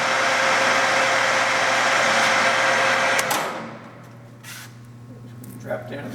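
A Romi T14 14-inch by 40-inch metal lathe at 630 RPM gives a steady whining hum with a low drone that eases off partway through, leaving quieter mechanical rumble and a few clicks.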